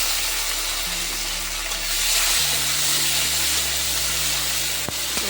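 Chopped onion and tomato fry in a pan, producing an even, fairly loud hiss with a low steady hum underneath. No one speaks.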